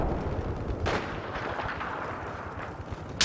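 Gunfire in Battlefield 4, a few sharp booming shots with rumbling echoes against a constant battlefield din, loudest near the start and the very end.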